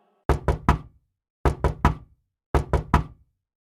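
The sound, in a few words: knocking on a gate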